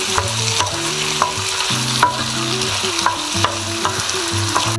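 Vegetable couscous with turmeric and chicken masala powder sizzles in a pan as a spoon stirs it, with regular scraping knocks over a steady frying hiss and a low kitchen hum.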